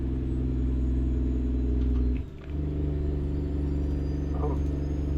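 Freightliner truck engine in American Truck Simulator, hauling cattle in New Mexico, a steady low rumbling drone that runs throughout, dipping briefly in the middle before settling back to a constant hum.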